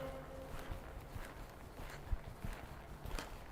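A horse moving through a riding lesson in an arena, its hoofbeats a steady, rhythmic clip-clop at moderate distance, soft thuds repeating beneath a low background hum with no voices.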